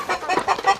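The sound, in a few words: Rhode Island Red chickens, roosters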